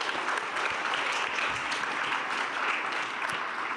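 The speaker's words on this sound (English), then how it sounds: "let's give a round of applause to these gentlemen and thank them for their expertise" Applause fills a community meeting after a panel of experts on rebuilding homes lost in the Eaton Fire, a loud, sustained patter of many hands clapping.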